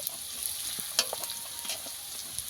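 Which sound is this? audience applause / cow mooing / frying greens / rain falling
frying greens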